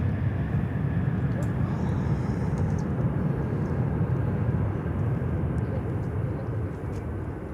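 A Boeing 777-300 freighter lands at Miami Airport with a broad, steady roar of engine and rushing air that holds loud throughout and eases slightly at the end.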